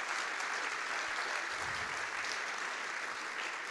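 An audience at the closing session of a literary gathering applauds continuously, a dense, even wash of clapping heard from a distance and fairly soft, with no break.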